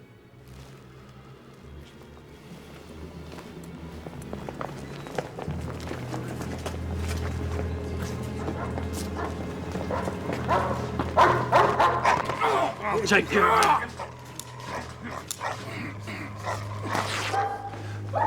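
A dog barks and whimpers indoors in a convent, with yips and whines scattered through the scene, under footsteps and brief talk, growing louder and busier toward the middle.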